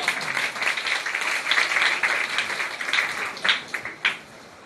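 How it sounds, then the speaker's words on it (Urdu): An audience applauds at a two-day national Urdu seminar at Hussainy Alam College in Hyderabad, a loud, close burst of clapping that carries on steadily, then thins into a few scattered final claps. "ایک بار ان کے لیے تالیاں"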